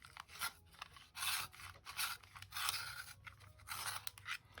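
Pencil found in a public park being turned in a sharpener, giving close, crunchy grinding bursts separated by short pauses.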